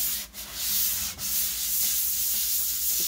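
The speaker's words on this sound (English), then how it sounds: "So I'm going to sand this lightly." Light hand sanding on a piece of furniture during a kitchen makeover, a steady soft rasping scrape that carries on continuously for a few seconds, close and fairly quiet, with no talking.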